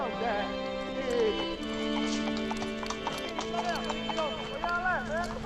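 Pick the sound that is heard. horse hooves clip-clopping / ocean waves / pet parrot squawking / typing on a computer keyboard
horse hooves clip-clopping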